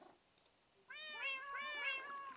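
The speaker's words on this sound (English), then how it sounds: "cat meows" Cats in the Minecraft video game meow softly in two or three quick, rising-and-falling calls over a faint background, with no talking.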